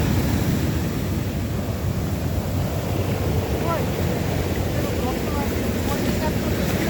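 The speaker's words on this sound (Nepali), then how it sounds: "यो छाल धेरै आइरहेछ" Ocean waves washing up onto a beach along a coastline, a continuous rushing surf roar with wind buffeting close by.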